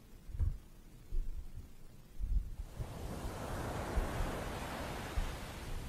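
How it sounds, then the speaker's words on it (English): Ocean waves washing in a steady broad hiss of surf that swells after a few seconds and holds, with some low rumbling thumps, continuous and fairly loud with no voices. "Ocean waves, very soothing."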